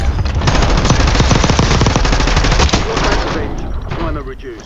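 Rapid automatic gunfire in the Warzone video game rattles in dense, continuous bursts, loud and near, easing off toward the end while a voice speaks over it.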